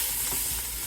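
Kale, sukuma wiki, stirred in a hot pan, giving a soft, steady sizzle and scraping with no pauses at close range and no voices.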